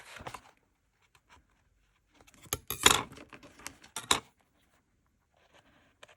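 Small craft scissors snip thread or paper in a few quick, close bursts around the middle, with quieter handling clicks before and after.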